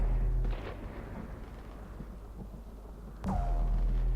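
Airstrike explosions in the Mass Effect 3 video game: a deep rumbling blast near the start, a sustained low roar, then a second sharp, loud impact with a ringing tail toward the end.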